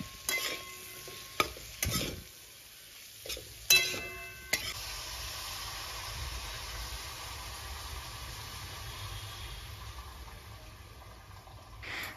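Spices and a couple of potato pieces sauté in a pan while being stirred, giving a steady low sizzle with a few sharp clatters of the stirring utensil near the start, then even frying hiss.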